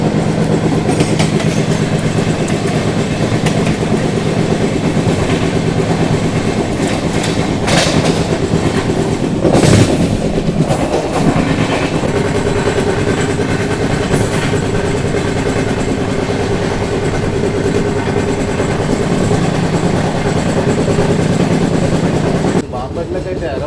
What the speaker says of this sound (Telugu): Tirupati Kakinada port express.